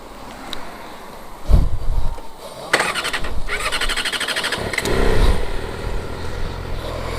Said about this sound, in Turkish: Motora bineceğim bir şöyle bir gazlayacağım